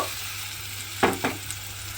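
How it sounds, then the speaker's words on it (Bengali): Spice paste cooks in hot oil for a water spinach (kolmi shak) dish, with a steady low sizzle and two or three brief scraping stirs near the middle, close and fairly quiet. "সমস্ত পেস্টটা আমি তেলের মধ্যে দিয়ে দিয়েছি। এইবারে এইভাবে নেড়ে চেড়ে একটু রান্না করে নিতে হবে।"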